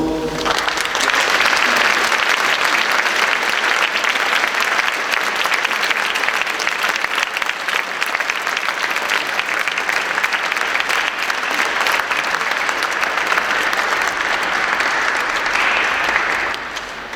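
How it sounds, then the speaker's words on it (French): A church congregation at an Easter Vigil applauds six newly received Catholic Christians, a long, loud, unbroken roar of clapping filling the space and fading slightly at the very end. "applaudir très fort"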